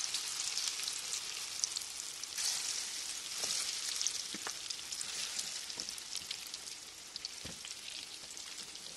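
Jiló and calabresa sausage fritters fry in hot oil with a dense, continuous sizzle and crackle, broken by occasional sharper pops, heard close and steady with no talking.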